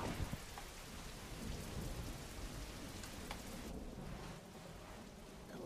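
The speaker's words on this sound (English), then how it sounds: "The last thing we needed is rain." Steady rain pours down with low rumbles of thunder in an animated film scene, a soft, constant hiss with no voices.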